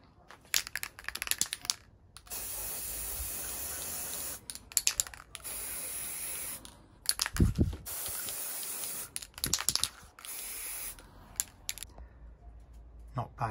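Aerosol spray paint hissing onto small bicycle pedal parts from a first-generation Shimano SPD overhaul, several bursts of a few seconds each separated by short pauses and clicks, close and moderately loud.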